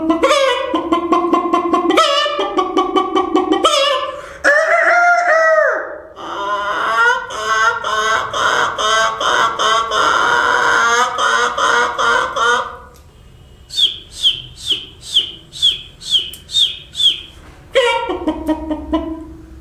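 A mimicry artist's voice imitating a rooster crowing and hen clucking, with loud drawn-out crowing calls followed by a rapid series of short clucks, close and alone.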